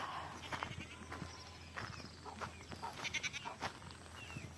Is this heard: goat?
yes